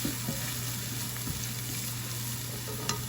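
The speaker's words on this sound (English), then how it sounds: "Put this down on low heat just so they can saute." Aromatics sautéing gently in a pan over low heat, a steady soft sizzle with faint stirring, continuous and close, no voices.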